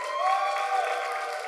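Live comedy show audience at Skankfest clapping together to vote, a dense steady burst of applause with some crowd noise, moderately loud throughout.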